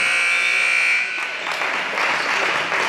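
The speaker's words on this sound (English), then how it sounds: "that is the final buzzer" A loud, sustained electronic buzzer ends a high school girls' basketball game, blaring for about a second, then gives way to a roaring crowd cheering and applauding in a big arena.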